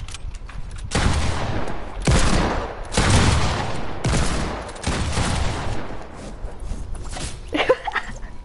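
Gunfire in a video game shootout, heard as repeated bursts of rapid shots in loud one-second clusters with short gaps between them, close and dominant, with a few sharper cracks near the end.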